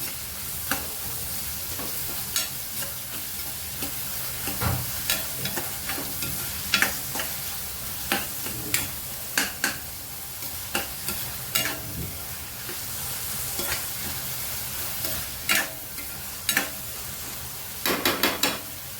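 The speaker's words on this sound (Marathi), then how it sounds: "कांदा पण चांगला लालसर होईपर्यंत परतून घ्यायचा आपल्याला." Onions frying in oil until reddish for Mumbai-style pav bhaji, a continuous close sizzle with frequent sharp scrapes and clacks of a spoon stirring against the pan, no talking.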